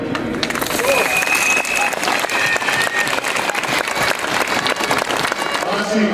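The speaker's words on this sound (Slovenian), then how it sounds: "Z aplavzom vam sporočamo" Protesters at a pensioners' demonstration in Ljubljana break into sustained applause, a dense, loud wash of many hands clapping that continues throughout, with crowd voices mixed in.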